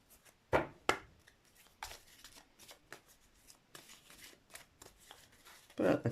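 Tarot cards shuffled and drawn up close: quick papery riffles and soft slaps, with scattered light flicks and rustles between them, fairly quiet.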